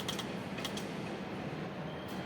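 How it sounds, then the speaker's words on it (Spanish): Windows in the AIFA airport terminal creak and groan in a low, continuous rumbling strain, with a few brief higher squeaks near the start, heard alone at moderate distance. "al menos las ventanas truenan bastante"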